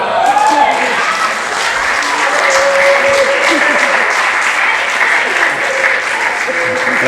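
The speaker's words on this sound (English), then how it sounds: "I want to give out a huge, proud round of applause" A crowd applauding at a celebration of someone becoming a sommelier, dense sustained clapping that holds at full loudness without a break.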